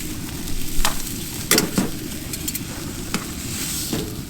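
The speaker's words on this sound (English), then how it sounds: "we're gonna do the sizzle" Food sizzling and being stirred in a pan on a wood stove inside a hot camping tent, a steady close frying hiss broken by a few sharp scrapes and spatters, with no voices.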